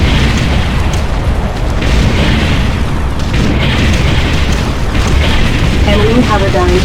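Artillery bombardment in the real-time strategy game Ground Control, a dense continuous rumble of booming explosions, loud and layered throughout, with faint game voice announcements mixed in.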